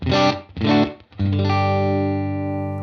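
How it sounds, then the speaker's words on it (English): Electric guitar chords played through a UAFX Enigmatic 82 Special Overdrive pedal: two short gritty strums, then a sustained distorted chord ringing out loudly. "get an overdrive sound."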